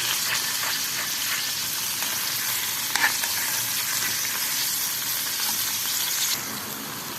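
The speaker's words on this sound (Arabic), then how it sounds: "هبتدي احمر الثوم كده" Garlic frying in ghee for a soup tempering, a dense continuous hissing sizzle with a brief stirring clink partway through, close and steady, easing slightly near the end, no talk.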